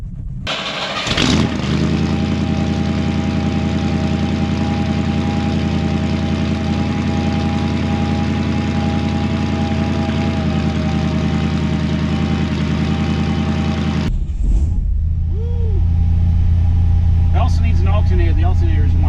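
A vintage car engine cold-starts with a brief crank, then settles into a loud, steady run with a strong alternator whine layered over it for about twelve seconds before cutting off, followed by a low idle-like hum and faint voices.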